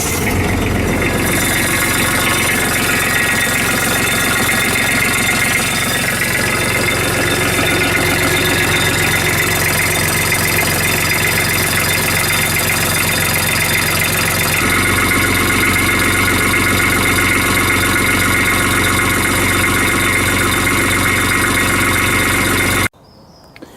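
A Kubota B2100 compact tractor's diesel engine idles under restoration, a steady loud rumbling drone with a slight knocking texture, running throughout before cutting off at the end.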